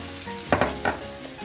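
Garlic dropped in to sauté with onion for pork kare-kare, giving a few quick bursts of sizzle and stirring clatter over a quieter background hiss, close and brief, with no talking.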